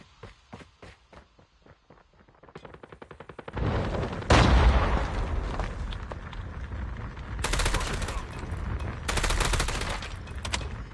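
Rapid bursts of SMG fire in the mobile shooter Call of Duty Mobile, starting as sparse single shots and footsteps, then dense loud sustained automatic fire with sharp crackling volleys near the end.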